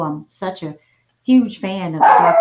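A dog barks a few times close to the microphone, the yips overlapping and following a man's speech.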